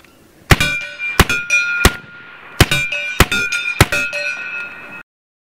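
A BIN TAC S45 semi-auto air rifle fires six sharp shots in an uneven rhythm, each crack followed by a ringing metallic clang from the target, loud and close with no voices.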